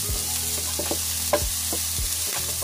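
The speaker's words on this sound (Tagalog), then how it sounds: "Kaya igigisa ko po siya. Kunting mantika lang." Ginger sautéing in a little oil for salmon belly sinigang, a steady close sizzle with repeated stirring scrapes and a few sharper clinks of a utensil against the pan.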